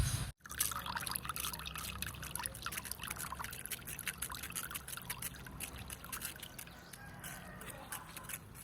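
Passion fruit juice trickles and pours steadily into a prepared batch of water, a continuous faint liquid splashing and dribbling heard up close.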